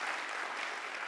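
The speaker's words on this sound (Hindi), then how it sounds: "ताली बजा दीजिए बहन जी के लिए" Brief, fairly faint audience clapping for a woman during a lecture session on the Gita, a steady patter with no voices.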